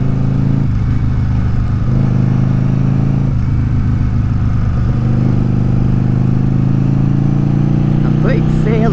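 A Yamaha XV750 Virago 750 motorcycle idles on a cold, icy morning, its engine a steady low rumble close by with slight shifts in pitch, while someone talks over it.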